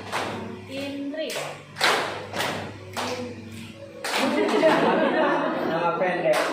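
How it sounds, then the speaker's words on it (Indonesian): A classroom concentration clapping game in Indonesia: groups of children clap in rhythmic bursts while chanting together, with a teacher's voice and chatter mixed in, ending in a denser run of claps and voices. "Tepuk konsentrasi."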